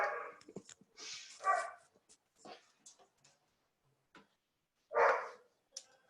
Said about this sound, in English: Can you guys hear the dog?